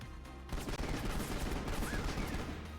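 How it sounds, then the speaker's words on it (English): Rapid bursts of gunfire from shooting at barrels in Final Fantasy XV, Episode Prompto, loud and continuous after a brief quiet opening, with shots blurring into a dense fusillade. "Why don't we play a game called Let's Shoot the Barrels?"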